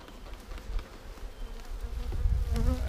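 Honeybees buzz steadily in an opened overwintered hive, a close, dense drone that swells louder toward the end.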